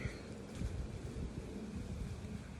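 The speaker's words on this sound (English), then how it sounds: "it is very windy" Strong wind gusts outdoors at a caravan and buffets the microphone with a steady, rumbling roar that swells slightly and then eases. No one speaks.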